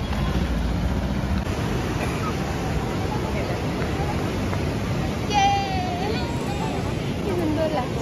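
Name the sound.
sea waves on the shore at Puri beach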